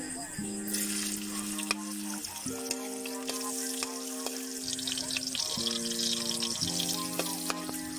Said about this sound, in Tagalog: Dito nga pala guys, nagisa na ako ng sibuyas tsaka bawang